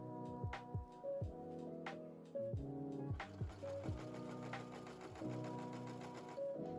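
Sewing machine hemming the bottom of a dress in stretchy fabric, running in short repeated bursts with whirring stitching that starts and stops, close and fairly quiet.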